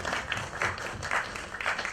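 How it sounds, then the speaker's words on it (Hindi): Audience applause at a film teaser and book launch event: a brief burst of dense crowd clapping, moderately loud and continuous for about two seconds, with no speech over it. "तो एक बार प्लीज तालियां."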